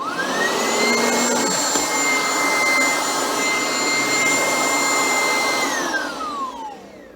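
Knockoff Oreck upright vacuum cleaner with a worn belt and torn power cord running, a loud steady motor whine held close, then winding down as it is switched off.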